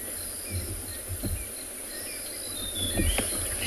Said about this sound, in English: The birds are doing their last chorus before roosting for the night.